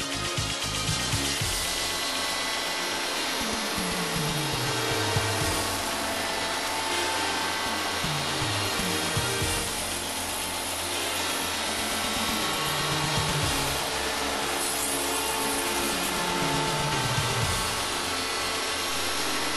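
A Hundegger K2 timber joinery machine mills wood in a carpentry workshop, cutting hidden dovetail notches in beam ends. It runs as a loud, steady whine with rising and falling cutter sweeps, and no voices are heard.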